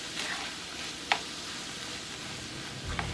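Seasoned meat mixture for shepherd's pie, with garlic powder, onion powder and Italian seasoning, sizzles steadily in a pan under a soft continuous hiss, with a couple of brief scraping clicks from stirring.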